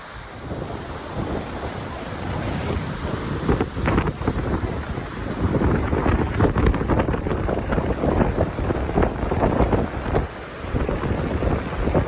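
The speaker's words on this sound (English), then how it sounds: "Crystal clear water and impressive waterfalls." A loud, steady roar of a spring-swollen waterfall in the North Cascades fills the whole clip, broad and continuous, mixed with gusty wind buffeting the microphone.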